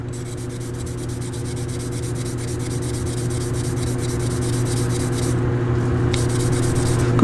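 Steady rubbing of fine 1000 to 2000 grit sandpaper worked back and forth with light pressure, a continuous close scratchy hiss that holds even throughout, with no talk.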